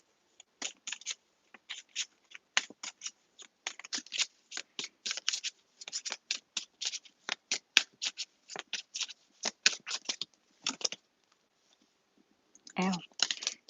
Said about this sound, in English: Lots of cards fell.